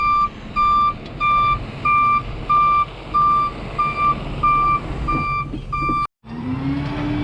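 A truck's reversing alarm beeps steadily and loudly over engine rumble at a basement foundation site, then cuts off briefly before the engine noise resumes.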